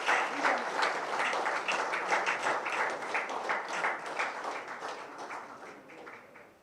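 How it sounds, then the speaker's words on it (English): A crowd applauds at a live sports event with Rahul Dravid and Rohit present, steady clapping that slowly fades over several seconds with faint talk beneath. "a powerful applause from all of you is expected now"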